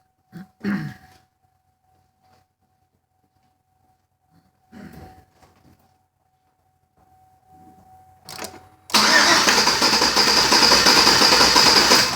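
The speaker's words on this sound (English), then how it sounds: "let's crank the engine" Engine of a Chevy Silverado with low compression cranking over, a sudden loud, steady churning starter sound that begins late and runs continuously to the end, after scattered quiet clicks and handling noises.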